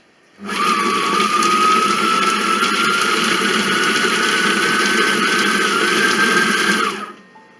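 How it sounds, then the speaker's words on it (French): A kitchen food processor robot mixes celery for spaghetti bolognese at speed 5, a steady high-pitched whirring motor running loud and unbroken for about seven seconds before spinning down, with no speech. "Donc là on mixe à nouveau pendant 7 secondes à la vitesse 5"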